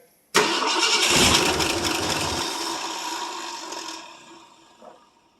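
A 1967 Ford LTD two-door with a 390 FE V8 fires up cold after sitting for 12 years, bursting abruptly into a loud, rough roar that slowly settles toward a quieter idle over several seconds.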